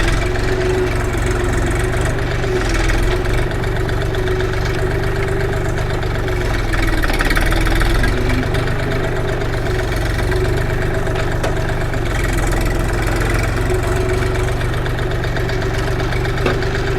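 A three-cylinder Forte XT244 mini tractor engine runs steadily and loudly throughout, a constant low rumble with a rough mechanical chatter and no pauses.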